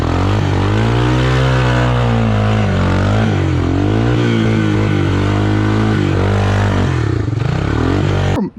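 An ATV's engine runs loud and close, holding a steady rumbling drone that dips and rises as it shifts into second gear, then cuts off sharply at the end.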